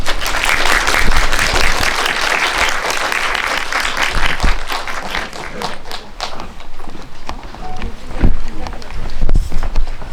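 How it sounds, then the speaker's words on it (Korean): A Korean indie cinema audience applauds as the director and actors enter a one-year anniversary screening event, with steady, loud, dense clapping throughout that thins slightly midway and swells again near the end. "박수 부탁드릴게요"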